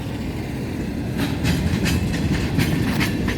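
A train rolls past a downtown crossing in Waycross, Georgia, with a loud continuous rumble and rhythmic clickety-clack from the wheels on the rails, heard close by without speech.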